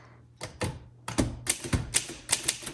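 Keys struck one by one on a 1964 Voss ST24 vintage manual typewriter, a run of sharp, close mechanical clacks at an uneven, quickening pace with no talking.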